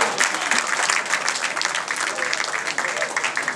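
Comedy audience at a stand-up show applauding in a steady, dense burst of clapping that lasts a few seconds.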